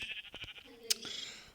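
Sheep bleats from a Minecraft game, with a few short bleating calls and clicks mixed with a voice talking over them, close and moderately loud.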